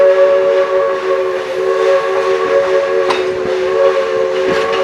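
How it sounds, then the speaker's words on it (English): An oil-fired steam locomotive on the Roaring Camp Railroad sounds a loud, sustained steam whistle chord over a hissing rush of steam, with no break for several seconds. "That is an oil-fired steam locomotive."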